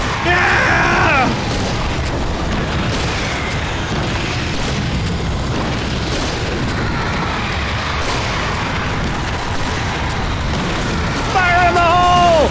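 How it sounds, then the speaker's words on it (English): A flare gun fires in the video game Alan Wake Remastered, giving loud, heavy booming bursts over a dense, continuous wash of game noise, with brief voice-like tones at the start and end. "she's giving infinite flare gun ammo!"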